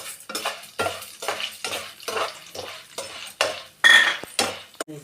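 Peanuts and lentils roasting dry in a pan are stirred in regular strokes, each sweep a rattling scrape of seeds and spoon against metal, near and loud with short pauses between strokes.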